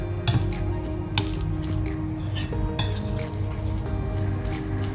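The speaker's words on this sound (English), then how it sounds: "I'll add this into the bowl. Give it a quick mix." Chopped green chilies and garlic are stirred in a bowl, giving soft squishy mixing sounds broken by a few light clinks of a utensil against the bowl, close and steady.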